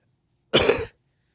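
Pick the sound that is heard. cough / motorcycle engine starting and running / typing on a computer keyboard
cough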